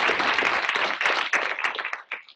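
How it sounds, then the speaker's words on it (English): Short, thinning applause from a Cornell University lecture audience for a speaker on maize herbivory, a brief burst of clapping that breaks into scattered individual claps and fades within about two seconds. "let's give Kevin another round of applause"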